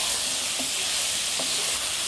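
Tomatoes and potatoes simmering with chicken and spices in a pot for Ethiopian-style pasta, giving a steady close sizzle and hiss with a couple of soft stirring knocks.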